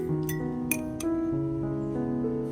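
Teaspoons of coffee powder go into a clean glass jar, with several sharp metallic clinks of spoon against glass over a steady background of sustained musical tones, with no speech.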